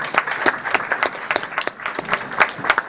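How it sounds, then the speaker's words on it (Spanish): Brief applause from a small audience at a teachers' union election meeting, a thin scatter of individual claps close by, irregular and fairly sparse. "Bueno, aplaudimos a Gustavo y no aplaudimos a Víctor"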